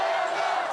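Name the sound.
crowd of citizens cheering at football match viewing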